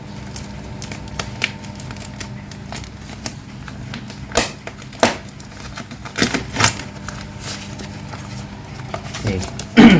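Plastic packaging crinkles and tears while a package of Hammerhead UL-X8 PE braided fishing line is unboxed, with scattered sharp rustles and clicks that grow busier near the end.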